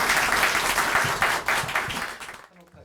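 Audience applause greets the new emergency committee chief of the People Power Party as he walks to the podium, steady clapping with a crowd murmur that fades out near the end.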